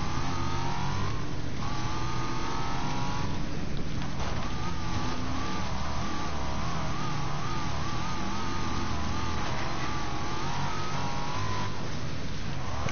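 Race car engines in the racing video game Wreckfest, a continuous loud roar that rises and falls as the engines rev and shift, filling the whole stretch.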